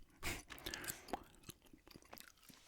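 Close, wet chewing with crunchy bites and soft smacking, in irregular bursts, no talking.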